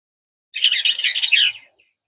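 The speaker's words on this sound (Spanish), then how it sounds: "este pequeño pajarito gris tiene dos líneas finitas" A small grey bird with two thin lines, on a trail at Mission Trails park, gives a single rapid twittering burst of bright high chirps lasting about a second, close and clear with no voices.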